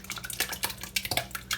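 Homemade Instant Pot yogurt dumped into a cheesecloth-lined bowl, a run of soft wet plops and light clinks of a spoon against the pot.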